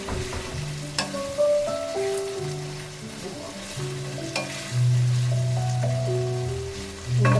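Moringa drumsticks are stirred and fried in a pan for a prawn and mango curry. Loud, steady sizzling runs under repeated scraping and clinking strokes of the stirring utensil, with no talking.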